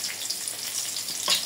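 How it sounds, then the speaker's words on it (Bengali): Chopped onion fries in oil left from frying hilsa fish, making a brief, soft, steady sizzle. "পেঁয়াজ দিয়ে একটু হালকা লাল লাল করে ভেজে নেব"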